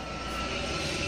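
Light airplane engine droning steadily at a small airfield, a continuous broadband hum at moderate distance with no voices.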